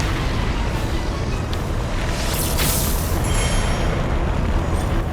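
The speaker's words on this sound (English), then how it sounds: "I think there was sort of a weirdly big explosion behind me" Big explosion in a Zelda game, heard as a dense, loud rumbling roar that runs throughout, with a sharper crackling burst in the middle.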